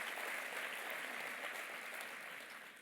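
An audience applauds at a ceremony, dense continuous clapping that holds steady and then tapers slightly toward the end.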